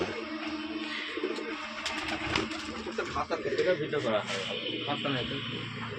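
Pigeons with large feathered feet coo in soft, low repeated calls, heard close by beneath someone talking over them.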